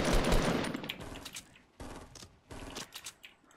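Rapid bursts of automatic gunfire in a Fortnite Battle Royale match, a dense, loud volley up front followed by shorter separated bursts, with no talk.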